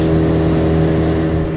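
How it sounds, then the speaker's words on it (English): A small, teeny motor dinghy speeding through the Narrows of Baye Fine, its outboard motor giving a loud, steady, close-up whine with strong sustained tones and no voices. "this little dinghy makes a pretty big wake for a teeny little dinghy"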